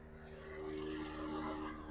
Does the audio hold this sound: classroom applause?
no